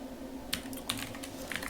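Keys on a computer keyboard are struck in a few quick, soft clicks over a low steady room hum, close and fairly quiet, while someone codes.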